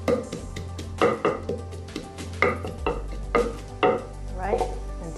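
Garlic and chili are pounded roughly in a mortar for a Thai guava som tam, with a series of sharp, irregular knocks and thuds, close and distinct, over a low background hum.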